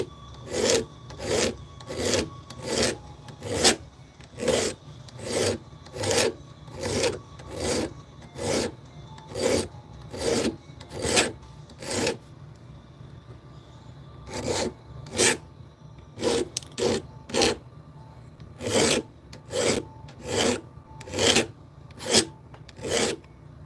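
Steady, rhythmic rasping strokes of 800 grit sandpaper worked back and forth, close and even, about one stroke per second with a brief pause midway before the rubbing resumes.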